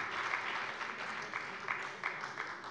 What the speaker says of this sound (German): Es ist nett, dass die FDP jetzt auch geklatscht hat